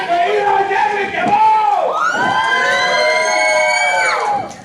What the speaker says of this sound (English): Come on, let's hear it for Eli Devlin